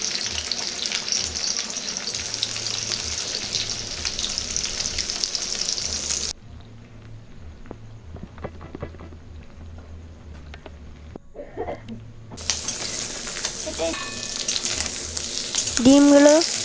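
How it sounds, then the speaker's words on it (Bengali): Cut boiled eggs fry in mustard oil in a kadai over low heat, giving a steady close-up sizzle that drops to a softer crackle in the middle, then swells loud again with a brief tonal sound near the end. "কেটে রাখা ডিমগুলো অল্প আঁচে ভেজে নেব।"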